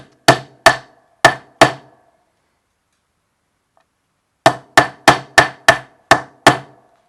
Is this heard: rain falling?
no